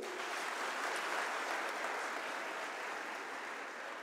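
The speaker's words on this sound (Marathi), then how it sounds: "एकदा जोरदार टाळ्या होत्या ताईसाठी" An audience claps together at a live Guru Purnima festival event, dense sustained applause that stays loud and even for a few seconds before easing slightly at the end.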